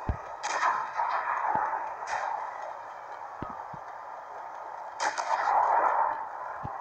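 Tank cannon shots in the World of Tanks video game, a few sharp, heavy bangs spaced seconds apart over a steady engine-like game drone.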